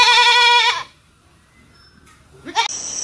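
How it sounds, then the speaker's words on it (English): A goat lets out one loud, harsh, human-like scream that cuts off abruptly, followed by a near-silent pause and a few faint, scattered background noises. "Screaming goat."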